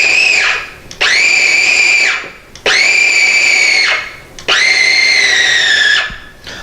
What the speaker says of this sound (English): we're just going to kind of pulse this